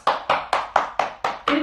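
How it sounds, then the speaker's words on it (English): Children at a yoga lesson clap a round of applause in a slow, even beat, seven sharp claps close to the microphone with no talking. "Give yourself a big round of applause."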